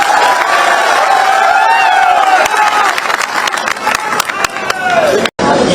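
Crowd clapping and cheering at an Indian political election rally in Madhya Pradesh, with dense, sustained applause and whoops over the full stretch, loud and close, cutting off abruptly near the end.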